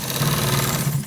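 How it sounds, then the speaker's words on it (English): A close sewing machine hums in a steady, continuous run while stitching a white trouser, its motor droning evenly for the whole moment. "So we are gonna stitch from the down to the top part."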